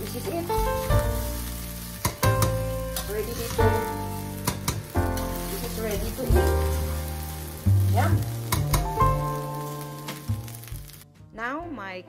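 Kimchi fried rice frying in a pan gives a continuous loud sizzle with occasional stirring scrapes, heard beneath music and talking.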